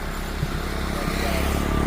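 A passing tractor engine rumbles loudly and steadily at close range near Mangla Dam, a low continuous drone throughout.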